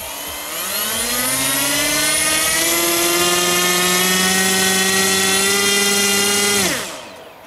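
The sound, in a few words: Cobra 2204 brushless motor spinning HQ5040 propeller, thrust test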